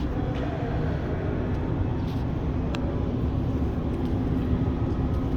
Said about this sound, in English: I can hear it now coming through the tunnel.